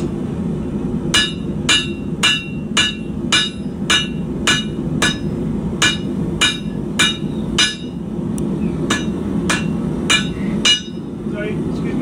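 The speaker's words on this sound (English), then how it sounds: "I'm going to focus on bringing down with a cross peen." Steady cross peen hammer blows forging a criollo knife, about fifteen sharp ringing strikes at an even rhythm, close and loud over a constant low roar of the forge.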